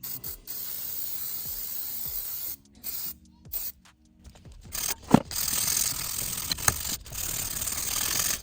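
Brake cleaner sprayed onto a new brake rotor on a 2022 Volkswagen Tiguan: close, hissing aerosol bursts in several separate spurts, with short gaps and a few metallic clicks and clanks between them.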